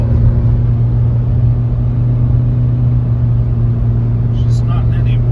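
A 2005 VW Jetta TDI wagon with a quarter million miles pulls uphill under full throttle, its diesel engine holding a steady, loud low drone heard from inside the cabin.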